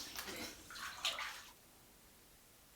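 Water splashing as a face is rinsed, close wet sloshing for about a second and a half before it quiets into faint room noise.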